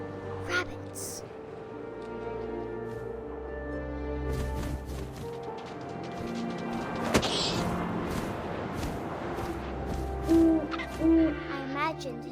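Owl hooting in What Remains of Edith Finch, a few soft hoots rising late over a dense game soundscape of wind and low rumble, with a narrating voice running beneath throughout.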